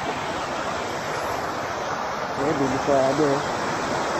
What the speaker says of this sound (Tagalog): kasi sobrang lakas na ng tubig dyan